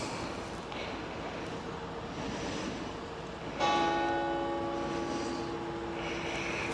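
A church bell rings out with a sustained metallic hum over a faint background murmur, its tone swelling and lingering after the strike.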